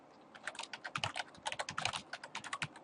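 Quick bursts of typing on a computer keyboard during a Debian Linux command-line install, irregular clusters of crisp key clicks close by with short pauses between runs.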